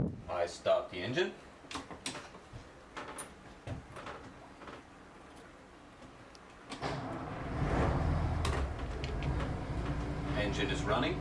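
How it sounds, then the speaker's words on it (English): A historic sailing ship's engine cranks and catches partway through, settling into a steady low rumble after earlier clunks and handling noises aboard the vessel, with some talk early on. "I start the engine."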